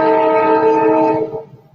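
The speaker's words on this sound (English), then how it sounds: "A charming train goes by outside my window from time to time." A train passing outside a window sounds its horn, a steady, sustained multi-tone blare at moderate distance that holds for over a second before fading away.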